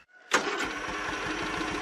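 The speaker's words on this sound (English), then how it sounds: "today, Tanda introduced me to the lawnmower tractor" A lawnmower tractor engine cranks and catches after a brief near-silence, then settles into a steady, loud, close idle rumble with a rattling mechanical texture that runs to the end.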